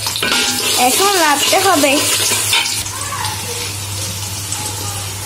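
Onion frying in white cooking oil in a pan, a loud continuous sizzle with stirring, with a short spoken remark at the start over the frying, which settles to a steadier, quieter sizzle.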